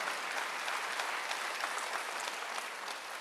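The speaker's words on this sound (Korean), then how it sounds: "박수를 하나 주세요." Soft, somewhat distant applause from a church congregation during a Wednesday worship service, an even wash of many hands clapping for a few seconds without speech.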